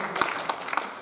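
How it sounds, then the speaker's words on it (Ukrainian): An audience at a Ukrainian festival-contest applauds, a brief burst of dense, close clapping with a few sharper claps standing out. "Ваші оплески!"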